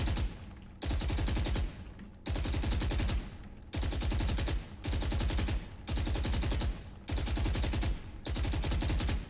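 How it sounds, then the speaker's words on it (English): A rifle in the video game Valorant fires in repeated bursts, six or seven loud, close strings of rapid shots, each lasting about a second and separated by short pauses, with no talking. "So the best way to deal with it is just to take 10 round bursts."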